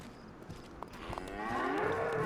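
A cow in the DayZ video game gives a long, low moo that swells up over a quiet background, close by and heard alone.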